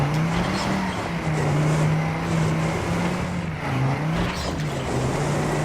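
A car engine in the Trackmania Canyon racing game drones steadily and loudly throughout, its pitch wavering slightly as the car drives on, with no voices.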